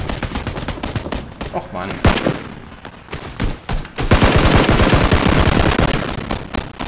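Loud automatic gunfire from the video game PUBG rattles in rapid bursts, with a sharp single shot and a long sustained volley near the end, while someone briefly speaks over it.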